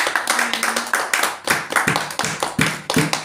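A church congregation claps for the Lord in a quick, loose rhythm of sharp hand claps, close and fairly loud, with no voices over it.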